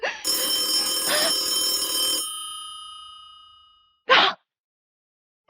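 An old-fashioned telephone bell rings loudly for about two seconds with a bright metallic clatter, then fades away; after a pause a short second burst starts and cuts off. No one speaks over it.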